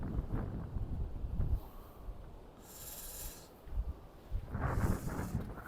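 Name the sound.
wind blowing at a seaside harbour wall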